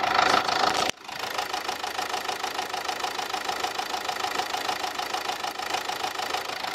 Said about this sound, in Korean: 자 엔진 소음도 한번 들어보시도록 할게요